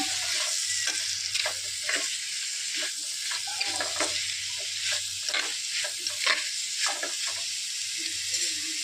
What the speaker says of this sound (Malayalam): അതും കൂടെ ചേർത്ത് നന്നായിട്ട് ഇളക്കി യോജിക്കുക